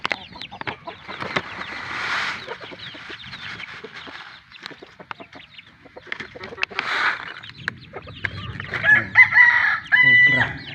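A rooster crows twice in a farmyard, each call drawn out and fairly close, with scattered clucking and other fowl noises between and a denser burst of bird calls toward the end.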